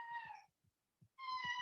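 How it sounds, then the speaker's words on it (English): A house cat meows twice indoors, a drawn-out tonal cry, then a short pause with faint soft sounds before a second, louder meow, close by and quiet overall with no talk. "Oh, that's my cat, and I'm not doing anything to her."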